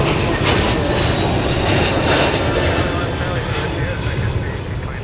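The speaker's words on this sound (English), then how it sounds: "Delta with the 321neo departing in the background ahead of KLM." Delta Airbus A321neo jet departing MSP airport, a steady broadband engine roar filling the scene throughout, fairly loud and distant-sounding, with a voice talking over it.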